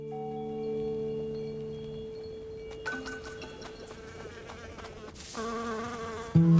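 Bees buzz in the video game Melody of Moominvalley, a steady insect drone running through the clip alongside sustained game music tones, with a louder burst near the end.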